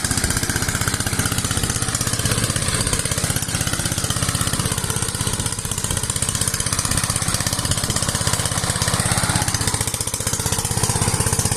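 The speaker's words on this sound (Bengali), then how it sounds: "খুব নিখুঁতভাবে পাওয়ার টিলার দিয়ে" A power tiller engine ploughs soil in a mango orchard, a loud, steady, rapid chugging drone that runs unbroken from start to finish with no talk.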